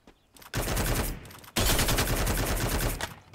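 Bursts of rapid automatic gunfire from a battle royale video game, two loud, dense volleys split by a brief gap, close and dominant with no talking.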